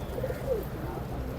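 A female pigeon at a crowded pigeon market gives a brief, soft coo in the middle of steady low background noise and distant murmur.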